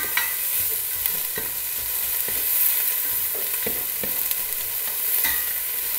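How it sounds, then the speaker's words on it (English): Onion sautéing in olive oil for an easy chili, giving a steady close sizzle throughout, broken by sharp clicks of a utensil stirring against the pan. "So we want to saute our onion in olive oil."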